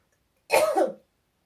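A single short cough, close and fairly loud, about half a second long, with silence before and after.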